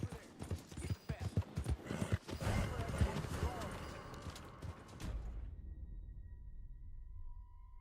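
Horse hooves in Red Dead Redemption 2, a burst of rapid clopping and creaking tack mixed with speech over the first few seconds, then fading into a quiet hum.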